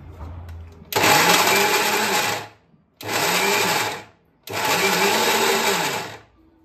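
A kitchen mixer grinder whirs loudly in three bursts, each lasting a second or two and separated by short pauses, as ambadi leaves and jaggery are ground into a chutney.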